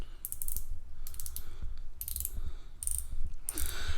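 Unidirectional 120-click bezel on an Invicta Pro Diver watch turned in five short bursts of rapid, crisp ratcheting clicks, close up, separated by brief pauses, with no talking.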